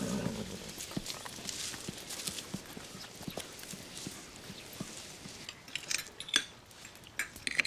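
Horses clip-clop with scattered hoof steps on a quiet trail. A faint jingle of tack comes through the low background.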